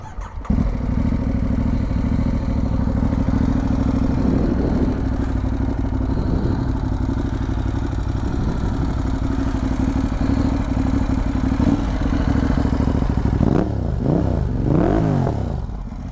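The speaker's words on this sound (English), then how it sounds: "Everything's quiet until we start up the old Hypermotard." A 2018 Ducati Hypermotard 939 SP motorcycle engine fires up and idles with a loud, lumpy throb, then is revved in several sharp bursts toward the end.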